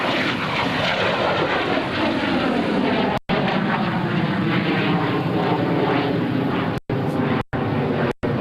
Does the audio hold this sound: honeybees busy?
no